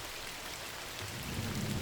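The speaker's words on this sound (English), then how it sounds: "the rain coming down in sheets blurring the building's stark silhouette against the dark sky" Heavy rain pours down in sheets on a dark night outside a stark building, a dense steady hiss that thickens with a low rumble toward the end.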